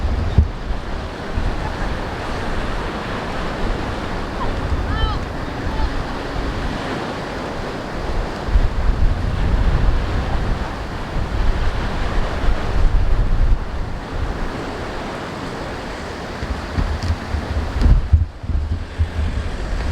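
Ocean waves at high tide overflowing onto the shore, a loud continuous churning surf roar with heavy wind buffeting the microphone throughout, with no talking.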